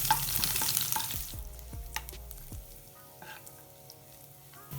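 Garlic cloves drop into hot oil with cumin and fry, a crackling sizzle with scattered sharp pops and spoon scrapes against the pan. The sizzle starts strong and settles to a quieter bubbling hiss.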